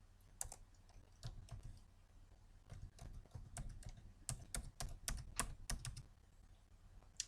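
Fingers type on a computer keyboard in close, fast bursts of crisp clicking keystrokes, pausing briefly between runs, with no talk.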